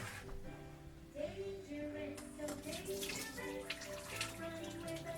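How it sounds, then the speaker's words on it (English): Water from cooked Nissin U.F.O. Chow Mein Spicy Beef instant noodles pouring out of the tray as it drains, a steady close splashing gush lasting several seconds with a voice and some musical tones underneath. "She is out of the way for noodle draining."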